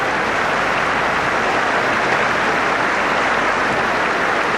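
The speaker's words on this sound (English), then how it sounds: "Good applause from the Swansea crowd." A rugby crowd at Swansea claps during the 1986-87 Swansea v Newbridge match. The applause is dense and steady, filling the whole stretch as a continuous, loud wash of clapping.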